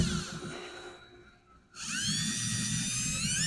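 Power drill driving screws into a wooden deer feeder, a high whine that slows and fades, pauses briefly, then spins back up steadily and close.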